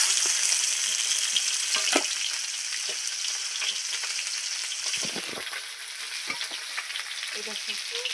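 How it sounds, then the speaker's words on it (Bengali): Rupchanda fish sizzling steadily as it fries in a pan in a Sundarban village kitchen, a constant hiss with occasional stirring clinks and bumps. "আমার কিছু মাছ ভাজা হয়ে গেছে আমি এবার তুলে নেব"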